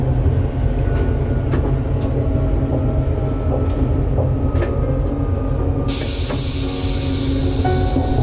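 A train rolls into Figeac station on the Aurillac–Toulouse line, with a steady loud rumble of wheels and running gear, rhythmic rail clicks, and a bright hiss that rises near the end.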